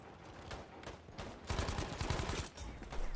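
Rapid gunfire in Battlefield 5 bursts in dense repeating shots, loud and close, with heavier volleys in the second half.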